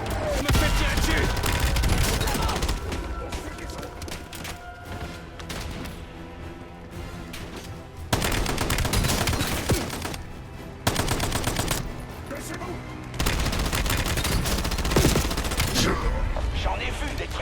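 Call of Duty Black Ops 7 gunfire crackles in dense bursts of rapid automatic shots, loud and close, with short quieter lulls and a voice speaking in between.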